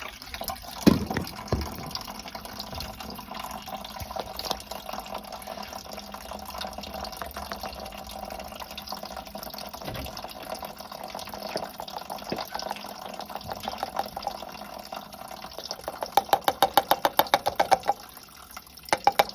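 Water poured into a steam boiler with Surgex treatment gives a continuous gurgling fill with trickles and drips, then brief splashy bursts near the end.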